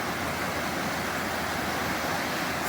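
Clear Creek in Buffalo, Wyoming, running below its usual snowmelt height, gives a steady, broad rush of flowing water, close and continuous with no voices.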